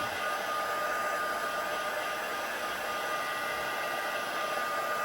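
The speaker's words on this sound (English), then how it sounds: "always heat the back as well. It helps in terms of the paper curling, but also catches any little bits of the embossing powder" A heat tool melts embossing powder from the back of a handmade Christmas card, a steady, loud hair-dryer-like blowing roar that holds evenly from start to finish with no talking.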